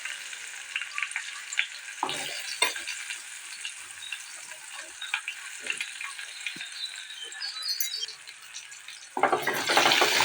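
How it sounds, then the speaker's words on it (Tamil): Onions sauté in hot oil with mustard seeds and dried chillies, giving a continuous soft frying hiss broken by occasional spatula scrapes. The sizzle swells louder near the end. "வெங்காயம் நல்லா வதக்கி விட்டுக்கலாம்"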